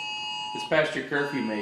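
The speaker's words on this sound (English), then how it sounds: "Yeah, that was our alarm to finish up." A steady electronic alarm tone sounds without a break as a curfew signal during a game, with someone talking over it throughout.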